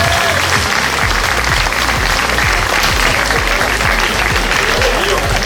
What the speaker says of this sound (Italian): Facciamo un applauso per tutte le nostre concorrenti.